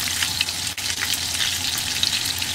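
Luncheon meat frying in a pan until golden brown, a loud, steady sizzle and crackle of hot oil that continues without a break and with no talking.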